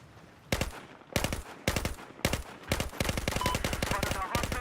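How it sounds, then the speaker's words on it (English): Rapid gunfire in Battlefield 4, bursts of automatic shots in several volleys separated by brief gaps, then a sustained stretch of continuous firing, loud and close. "Somebody firing on me."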